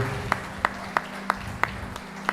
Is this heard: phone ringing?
no